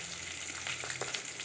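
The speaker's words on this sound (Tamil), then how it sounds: "இதில் கொஞ்சம் காஞ்ச மிளகாய் போட்டிருக்கேன். நல்லா இதை வதக்கிக்கலாம்." Shallots, coconut, curry leaves and dried chillies sizzle in a hot pan, a steady close frying hiss with a few brief stirring scrapes, no voices.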